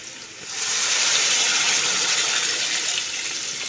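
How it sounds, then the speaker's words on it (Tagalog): Water poured into a pan with pork, a steady rushing splash that swells quickly and holds for a few seconds before easing slightly. "Lagyan natin ng konting tubig."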